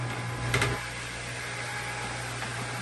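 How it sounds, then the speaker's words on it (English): Inside a boat's turbocharged engine room, a constant mechanical hum drones with a low steady tone. A brief clunk sounds near the start. "So I'm looking in the engine room now."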